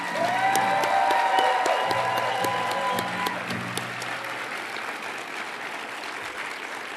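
Sustained applause from a commencement crowd at Augsburg University, thanking graduates' faculty, staff, friends and family; dense steady clapping with a few cheers, tapering slightly over seven seconds.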